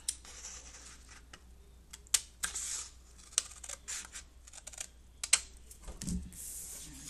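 Scissors snipping through paper while cutting out a paper viewfinder, a scattering of short, sharp, close snips and clicks with pauses between, no talking.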